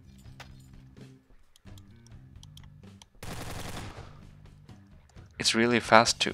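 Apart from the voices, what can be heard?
rotating weapon firing rapidly in Garry's Mod video game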